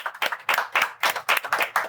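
Hands clap in a quick, uneven rhythm of about eight sharp claps over two seconds, close and fairly loud with no talking.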